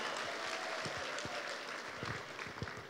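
A crowd of adults at a business seminar claps steadily in a soft, distant-sounding roar of applause with a few lower thumps, with no talking over it.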